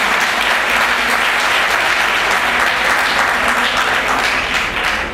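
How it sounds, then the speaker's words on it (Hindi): A large crowd at a community workers' conference gives loud, dense applause that continues without a break as a speaker is invited to the stage. "ज़ोरदार तालियों से उनका इस्तकबाल करें।"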